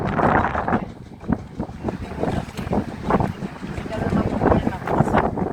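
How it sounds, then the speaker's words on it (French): Strong wind on a high seaside spot in bad weather, near Gijón and Salinas, roars and buffets the microphone in uneven gusts, with a voice talking over it throughout. "Il y a beaucoup de vent."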